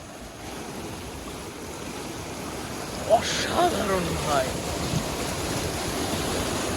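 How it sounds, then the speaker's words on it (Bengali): Water rushes steadily through a Teesta irrigation canal as a constant broadband roar with no pauses. Someone speaks briefly over it partway through. "এখানে কিন্তু পানির চাপটা একটু বেশি"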